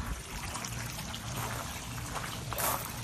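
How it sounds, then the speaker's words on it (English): Small garden water feature at a nursery, water spilling out and running down over a ball, a steady close trickle and pour that continues throughout with a slight surge near the end. "I always wanted one of these with the water comes out and then it runs down over the ball"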